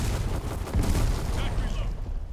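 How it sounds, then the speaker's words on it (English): A grenade blast in the shooter game Black Squad during a 5v5 demolition match, a broad rumbling boom that swells and lingers before fading, with a brief game voice line mixed in. "Throwing grenade."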